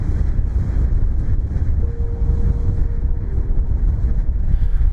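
Strong wind roars across a snowy mountain summit ridge at about 14,000 feet, a loud, steady rumbling buffet hitting the microphone with no pause, and a faint thin whistle riding over it briefly.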